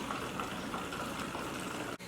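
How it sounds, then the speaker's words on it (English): Hot water running into a jug of homemade laundry soap, a steady rushing pour that holds even throughout and cuts off sharply near the end. "All I'm going to do next is finish filling up the jug with hot water."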